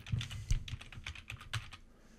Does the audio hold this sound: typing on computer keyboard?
yes